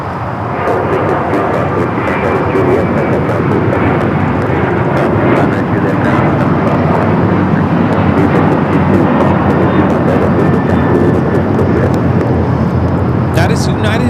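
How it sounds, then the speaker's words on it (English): A United Airlines Boeing 737-900ER takes off from LAX, its broad engine roar holding steady and loud throughout, with some voices blended underneath. "That is United Airlines 2218 taking off to Houston Intercontinental on the 737-900ER."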